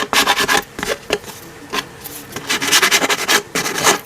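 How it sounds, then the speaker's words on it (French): A nail file rubs across the edge of a scrapbook album page to fuzz the paper, making close, dry rasping strokes in quick bursts with short pauses between them and no talking. "Ma lime à ongles"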